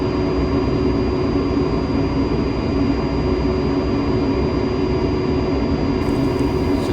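A-10C's twin jet engines run steadily in the DCS flight simulator after a cold startup, a loud unbroken roar with a thin high whine on top and no voices.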